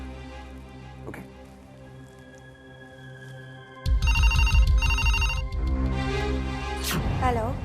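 A telephone rings with bright repeated bursts of trilling bells in a Hindi TV drama scene, loud and near, starting after a quieter stretch and overlapping other sounds.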